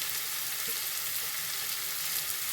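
Tomato and dried fish sautéing in a pan over a lowered flame for a dried-fish curry with raw mango, giving a steady, soft crackling sizzle that continues evenly throughout with no voices.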